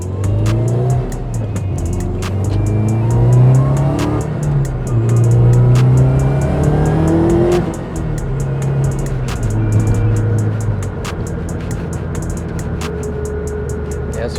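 A bugeye Subaru with an STI engine swap accelerates hard from inside the car, its engine note rising through gears in loud, sweeping climbs with brief dips at each shift.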